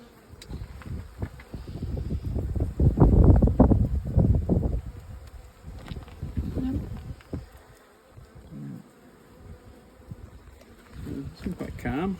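A dense mass of honeybees hums from a full, crowded hive box that is opened for treatment, a loud close drone that swells and fades in waves alongside rustling as frames are handled.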